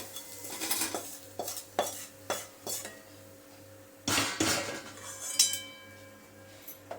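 Crisp fried potatoes scooped from a frying pan into another vessel during sago khichdi cooking, heard as a series of close metallic clanks and scrapes of a spoon against cookware over a faint low hum, with no talking.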